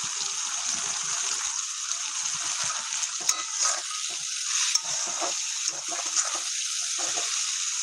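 Dried fish chutney sizzles and fries in a pan, a steady hiss with scattered crackles and pops throughout, close and continuous with no talk.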